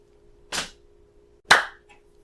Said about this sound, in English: That was a lazy clap.